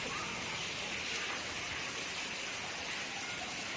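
Heavy rain falling outdoors, a dense steady hiss of downpour filling the whole stretch at an even level, with no speech over it.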